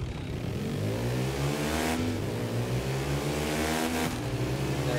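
An off-road motorcycle engine in The Crew 2 revs and climbs steadily in pitch, a loud, near, continuous buzzing drone that pulls through gear changes with no talk over it.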